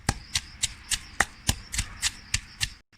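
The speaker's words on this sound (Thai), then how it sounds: "ตำให้มันแตกเนาะตำให้มันแตกมันละเอียดแล้วก็" Curry paste ingredients are pounded in a mortar for a Thai mushroom curry, about ten sharp, evenly spaced thuds at a steady rhythm, close and alone, ending in brief silence.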